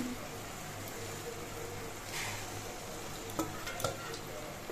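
Whisked sour yogurt goes into masala frying in a pan for yogurt chicken curry, making a steady, fairly soft sizzle with a few sharp utensil clinks near the end.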